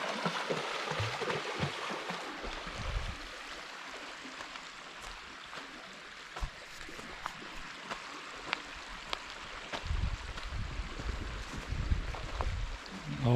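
Water flowing steadily along a creek that stays running even in high summer, a continuous soft rush outdoors with occasional light rustles and low wind bumps near the microphone.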